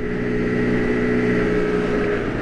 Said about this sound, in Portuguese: Já estou a andar de moto para há 4 horas.